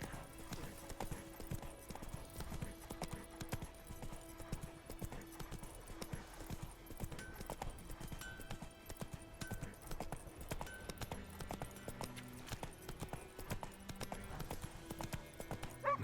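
Hooves of the horse Roach clip-clop steadily in The Witcher 3, a quiet, even trotting rhythm under game music.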